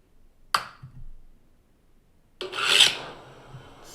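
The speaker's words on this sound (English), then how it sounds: "Scrapes. That's a nice one." Metallic scraping recorded from a fence: a sharp rasping scrape early on, then a longer, louder grinding rasp near the end, with a faint ringing metallic reverb tail and no talking.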